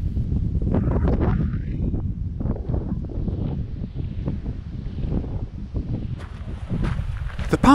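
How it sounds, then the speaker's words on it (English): Steady coastal wind buffets the microphone outdoors at Durlston Country Park, Swanage, a constant rushing roar with faint movement and rustling underneath. "It's a bit blowy today, but nowhere near as windy as it could be."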